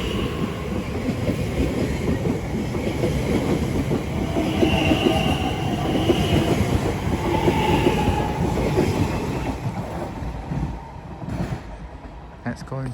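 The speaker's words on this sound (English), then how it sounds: "Now departing is a 1536 Elizabeth line service to Heathrow Terminal 4. 345053 takes this one out." An Elizabeth line class 345 electric train departs West Ealing station on the Great Western Main Line, a steady close rumble with rhythmic wheel clatter and a whining motor tone that gradually eases as it pulls away.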